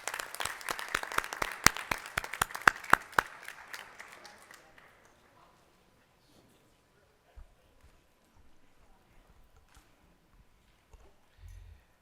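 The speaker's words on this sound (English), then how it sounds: "The round of applause for the Northeast Magnet High School." Applause at a school board of education meeting honoring a high school JROTC group, a burst of sharp clapping for about four seconds that quickly fades into a quiet room with a few faint thumps.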